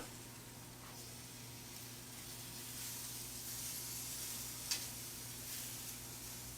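A Wagyu tri-tip sears on a Yoder flattop griddle after being flipped, giving a soft, continuous sizzle and hiss under a steady low hum, with one brief sharp crackle.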